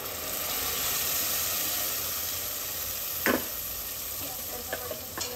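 Mutton gravy is stirred in a hot pan, with a soft continuous sizzle and hiss under a few brief scraping strokes near the end.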